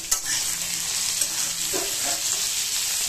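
Potatoes and peas frying in a pan with spice tempering, a steady close hiss and sizzle with occasional stirring scrapes, no talking.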